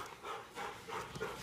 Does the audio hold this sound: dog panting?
yes